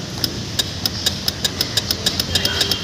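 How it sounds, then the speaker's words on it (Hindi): Rapid, regular ticking clicks of a Honda Activa scooter starter relay with a self-start fault, about four per second, over a steady engine idle hum, fairly close and evenly spaced. "अभी आपको मैंने साउंड दिखाया टिक टिक जो साउंड होता है रिले का"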